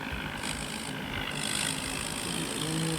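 A farm tractor stuck in mud near a mango tree revs and strains to pull free, a steady low engine drone holding at a constant level throughout with a faint idling rumble and no talk.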